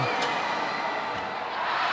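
Steady crowd roar fills a professional basketball arena during an ABL game between CLS Knights Indonesia and Saigon Heat, a continuous loud wash of many voices with a couple of brief sharp peaks, no distinct talk on top.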